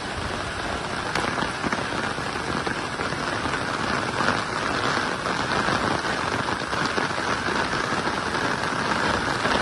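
Heavy rain falls steadily over Nagapattinam, a dense, loud, unbroken hiss of drops hitting surfaces for the full length, with no voices.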